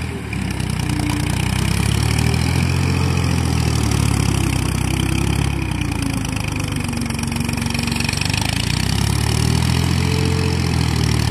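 A Massey tractor engine idles loudly and steadily during sand dune leveling, a close, continuous low drone with no break and no voices.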